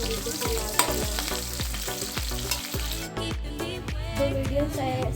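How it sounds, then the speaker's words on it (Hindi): Onions frying with garam masala and chili in a stainless steel kadai give off a steady close sizzle, with regular scraping stir strokes running through it and no voices. "प्याज को अच्छी तरीके से लाल करना"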